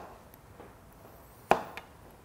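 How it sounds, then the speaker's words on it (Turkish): A knife chops unpeeled zucchini on a cutting board while making a creamy vegetable soup: one sharp, close chop followed by a fainter second tap, with quiet kitchen background before and after. "Şimdi kabağımızı da doğrayalım."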